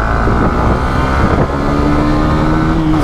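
A 2024 TVS Apache RTR 160 2V motorcycle roars loudly under hard acceleration during a performance test, its engine tone climbing steadily while wind buffets the microphone.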